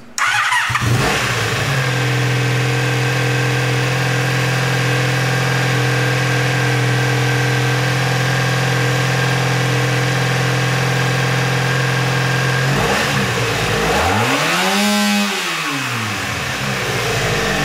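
Honda Sabre motorcycle engine held at a steady high rev for several seconds, then cutting out abruptly near the end with a sweeping whine as it drops and recovers, loud and close with no talk.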